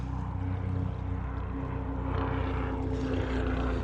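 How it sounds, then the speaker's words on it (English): A helicopter's steady rotor and engine drone hangs overhead in New York City, a continuous low thrum with a broad rushing wash, moderately loud and unbroken for a few seconds. "Got a helicopter going overhead."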